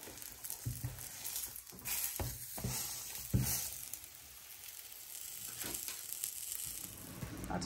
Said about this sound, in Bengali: আমি এগুলাতে একটু করে বাটার দিয়ে ভেজে ফেলবো